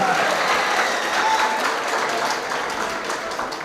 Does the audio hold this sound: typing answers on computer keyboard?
no